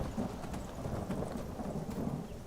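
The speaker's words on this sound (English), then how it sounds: "since I've been playing Skyrim, like vanilla Skyrim, it's been pissing rain." Steady rain and rolling thunder in Skyrim, a dense, continuous wash of rainfall with low rumbling underneath, even in level and fairly loud throughout, with no talk.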